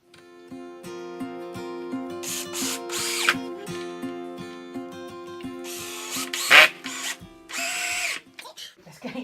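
Power drill driving screws into a wooden gate, with repeated whirring bursts of varying length, some short and some sustained, close and fairly loud, separated by brief pauses and occasional clicks.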